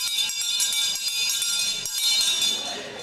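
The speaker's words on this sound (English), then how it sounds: "Now that noise is the old school bell at Great Torrington School" The old school bell at Great Torrington School rings nearby with rapid, bright metallic strikes that repeat steadily for the whole stretch, loud and clear with a slight pause partway through.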